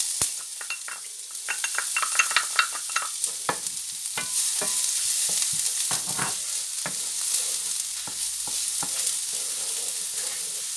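Garlic and ginger frying in a little oil, bright crackling sizzle with bursts of spattering and stirring clatter, close and fairly loud, steady throughout with no talk.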